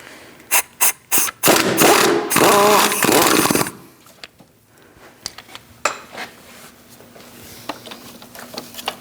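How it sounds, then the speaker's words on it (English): A 16mm socket on an extension works bolts loose on a 2000-2006 Mini Cooper 1.6L: sharp metallic clicks, then a loud sustained grinding burst, followed by lighter scattered clanks and taps of tools nearby. "Using a 16mm socket and an extension, I'm going to get to these two bolts, this one and the one in the back, and remove them."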